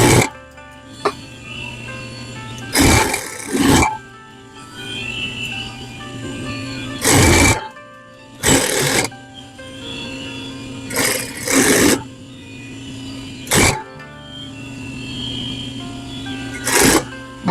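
A sewing machine stitches fabric in several short bursts with pauses between, including quick backstitching runs on a quarter-inch seam, close and fairly loud against a low background hum.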